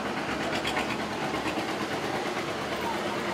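A vintage two-cylinder tractor with giant flywheels idles at an outdoor tractor show, a dense, steady chugging rumble with a rhythmic pulse, fairly close.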